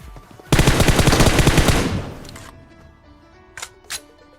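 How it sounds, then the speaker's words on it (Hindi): Automatic weapon fire in a battle royale video game, a loud fast burst of roughly fifteen rounds lasting about a second and a half, trailing off, then two short sharp cracks alone against a quiet background. "अब जहाँ से गोलियों का साउंड आ रहा है वहाँ पे हम चक्कर लगाते हैं"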